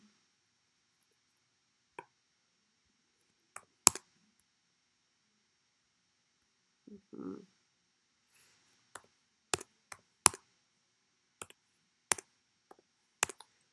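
Numbers are typed on a computer keyboard as sparse, sharp clicks, single and in small pairs, spaced across a quiet room with one brief muffled thump midway.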